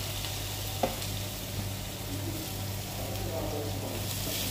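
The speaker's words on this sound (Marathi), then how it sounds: "बरें तळसून घेऊया कांद्याक." Finely chopped onions sizzle steadily in a hot pan, a soft continuous frying hiss with a low hum beneath it and an occasional faint stir.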